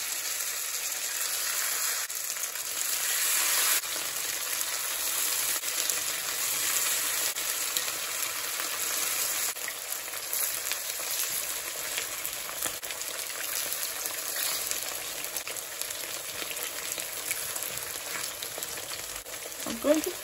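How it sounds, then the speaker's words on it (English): Steak pieces fry in hot oil for a Tamarind ginger steak, giving a continuous bright sizzle and crackle that holds steady throughout, heard faintly and without talk. "I'm going to add the steak to the oil in pieces because I don't want them sticking together."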